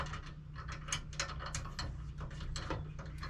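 A ratchet clicks in quick, steady strokes while tightening a new bolt on a cooktop bracket, the rapid pawl ticking soft and close throughout.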